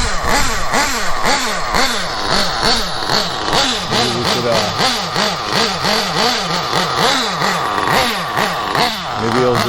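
A Losi Eight nitro RC buggy's small engine runs steadily and loudly close by, with a continuous buzzing drone that swells and dips in quick repeated revs, no voices over it.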